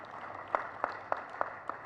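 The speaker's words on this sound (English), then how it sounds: "clap louder for them, please." A handful of sparse, evenly spaced claps from a small audience at an East African health and scientific conference, about five distinct hand claps over a quiet room hum.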